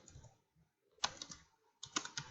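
Typing on a computer keyboard while entering a for loop in MATLAB: two short bursts of clustered key clicks separated by a pause, close and fairly quiet.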